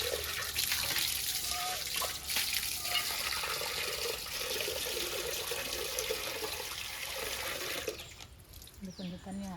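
Water gushing hard from a tap in a steady, forceful hiss that runs for several seconds before easing off, with a voice speaking over it.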